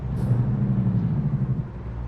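A Freightliner Century truck engine rumbles in a truck driving video game, a steady low drone held alone for about two seconds.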